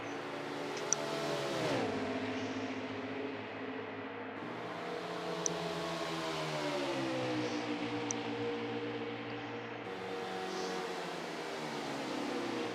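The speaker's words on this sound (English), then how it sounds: "You can definitely hear those engine RPMs." A race car engine in fuel-saving mode holds a steady, moderate hum with gradual pitch rises and dips, heard continuously and fairly faint for the whole stretch.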